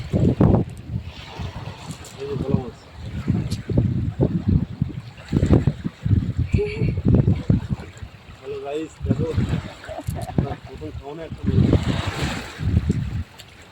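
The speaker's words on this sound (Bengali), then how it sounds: "কি ঢেউ হচ্ছে।" Waves slap and wind buffets around a small boat on Sundarbans waters, gusty rumbling close to the microphone, with people talking over it throughout.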